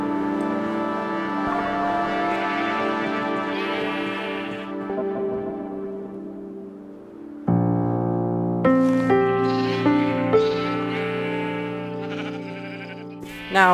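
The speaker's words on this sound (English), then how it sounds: "Oh, that's quite a little sheep." Sheep bleat in a field, long wavering calls that carry one after another, loud and close, with several animals overlapping and no talking.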